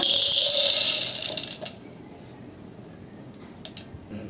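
Roasted, skinned peanuts tumble into a mixer jar with a bright, dense rattle for about a second and a half, followed by near quiet and a couple of small clicks.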